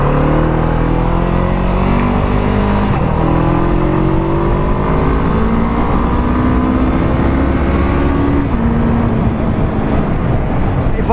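A Honda CB500F motorcycle at a 2018 demo day, heard while riding and accelerating to pass. The engine rises in pitch through the gears, with a loud, steady drone and a gear change roughly every few seconds.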